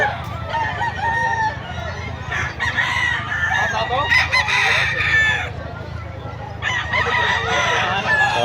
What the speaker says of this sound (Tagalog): Manok na yan.